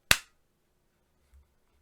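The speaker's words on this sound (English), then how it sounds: "so I'll just clap." A single sharp hand clap rings out at the start and then quickly fades to silence. A faint low thump follows about a second later.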